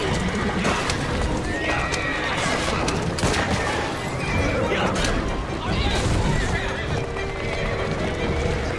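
Horse-drawn carriage in Assassin's Creed Syndicate: horses whinny and hooves clatter amid rolling wheels and bursts of gunfire in a busy, loud mix, with voices talking over it.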